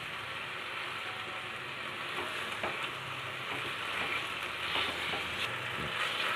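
Capsicum and paneer frying in a pan give a steady, moderately loud sizzle throughout, broken by a few soft clicks and scrapes from stirring, with no voices.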